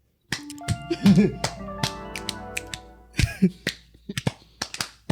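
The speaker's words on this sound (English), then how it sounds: "Spontaneous Spider applause clap." Soft fingertip taps in a quick irregular scatter, a quiet spider-style clap, with a few brief vocal sounds mixed in.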